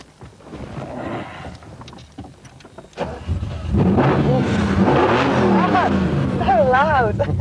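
A powerful car engine cranks and catches, then roars loudly and keeps running with a deep, throaty idle and a couple of sharp revs.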